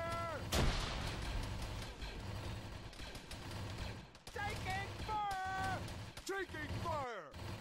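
Gunfire rattles through an Arma 3 battle, sharp bursts and booming shots repeating at close range, with radio-like voices and other effects mixed in.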